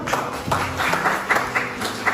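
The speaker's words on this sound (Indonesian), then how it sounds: "Tepuk tangan dong." Applause from a classroom audience during a mathematics lesson, a short burst of scattered hand claps with uneven rhythm over a couple of seconds, fairly close and moderately loud.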